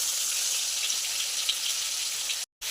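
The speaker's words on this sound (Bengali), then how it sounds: "একটু ভেজে নিচ্ছি, ঠিক আছে।" Fish fries in a pan with a steady, close sizzle and crackle. The hiss holds even throughout and cuts out abruptly for a moment near the end, and no one talks.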